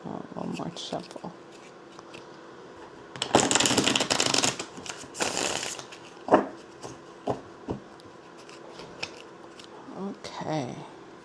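A deck of tarot cards is shuffled close up in a couple of loud riffling bursts, followed by scattered taps and soft card handling, with brief quiet talk at the end.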